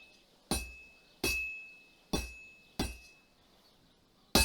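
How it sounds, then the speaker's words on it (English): Metal clanks of a hammer striking a sword on an anvil in the blacksmith's forge of Kingdom Come Deliverance 2, five sharp ringing blows spaced unevenly about a second apart, each decaying quickly, loud and alone. "Now take the hammer and try hitting it a few times."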